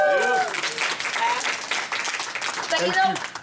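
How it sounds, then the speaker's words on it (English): An audience applauds Bill at a leadership talk, a dense burst of clapping with a voice speaking over it at the start and again near the end. "Can we give Bill a round of applause?"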